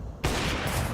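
Gunfire rings out in a Counter-Strike esports match at BLAST Bounty Malta, a sudden loud burst of continuous shooting that starts abruptly and holds for under a second.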